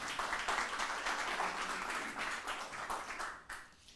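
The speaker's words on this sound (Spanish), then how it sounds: "Vamos a darle un aplauso al Señor en esta mañana." A church congregation claps together in praise, a dense steady patter of many hands lasting several seconds before thinning out near the end, with no talking over it.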